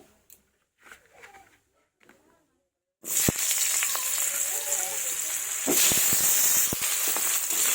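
Potatoes drop into hot oil in a kadai and fry with a loud, steady sizzle that swells midway, with a few soft clatters of the pan and no talk.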